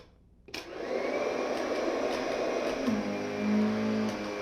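A vacuum cleaner motor whirs on abruptly and runs steadily and close, its pitch shifting slightly partway through before settling into a steady drone.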